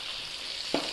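Fish shallow-frying in oil makes a steady hissing sizzle for about a second, close by, with one soft thud near the end.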